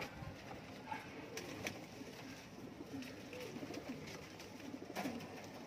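Pigeons coo softly and steadily under a hum of background noise, the low calls rolling on throughout with a few sharper clicks and knocks.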